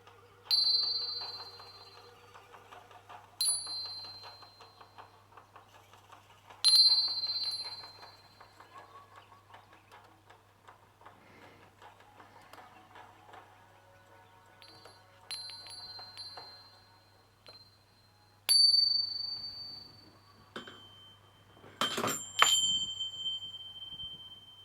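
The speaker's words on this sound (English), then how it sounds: "bringing to your attention your sense of hearing as I gently just ring some Tibetan chimes" Tibetan chimes rung gently five or six times, each clear bright strike ringing out and fading slowly over a low steady hum, with soft faint talk between strikes and a denser cluster of rings near the end.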